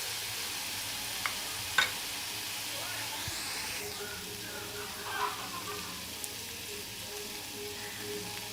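Vegetables stir-frying with chopped boiled egg in a pan for noodles, a soft steady sizzle and hiss with a few faint clinks and stirring scrapes, moderately close.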